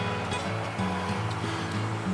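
A crystal-clear river flows beside a hiking trail, giving a steady, full rushing wash of water that runs continuously close by with no talk over it.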